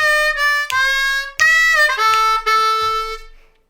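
A D harmonica plays a blues lick alone, with a few sustained, bending notes separated by short breaths, close and loud, fading out at the end.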